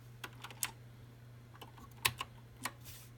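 Sparse keystrokes on a pro gaming computer keyboard, quiet bursts of clicks spread irregularly over a steady low hum, with no talking.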